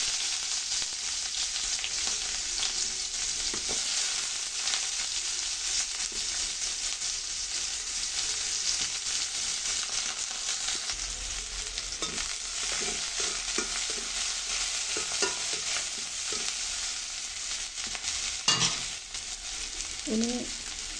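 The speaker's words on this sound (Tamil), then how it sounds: "இப்போ எண்ணெய் கொதிச்சிட்டது, வெங்காயம் போடுவோம்." Onions fry in boiling-hot oil for a Sri Lankan drumstick and jackfruit-seed curry, giving a loud continuous sizzle with scattered scraping and clinking as a spoon stirs them, close and without voices.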